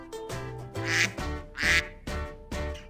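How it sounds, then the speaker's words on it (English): Farm duck quacking in a steady series of loud, nasal calls, several in a row with short gaps, close and alone with no talking. "Duck."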